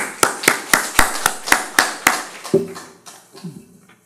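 In a church service, about nine sharp claps land in a quick, even rhythm, then stop abruptly, leaving a few faint, low shuffling sounds in a quiet room.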